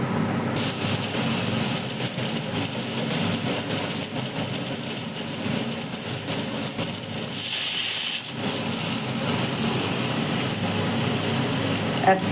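A pressure cooker on a gas stove, cooking bottle gourd leaves, releases a steady, loud hiss of steam that runs almost unbroken and dips briefly near the end.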